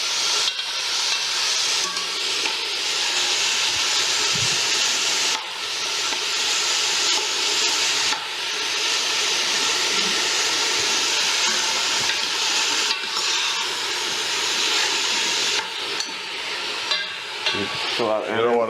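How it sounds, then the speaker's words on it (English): Vegetables sauteing in a pan with tomato paste, a steady loud sizzle and hiss throughout with occasional stirring scrapes, voices faint beneath. "You just want it to saute down for a little bit until our ingredients are a bit soft."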